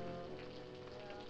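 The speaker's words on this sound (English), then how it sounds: "It's raining." Steady rain falling outdoors on a farm, a continuous close hiss of drops spattering on surfaces with no breaks, even and moderately loud throughout.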